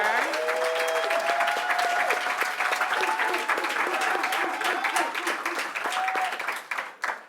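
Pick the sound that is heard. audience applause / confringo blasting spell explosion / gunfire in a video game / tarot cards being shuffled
audience applause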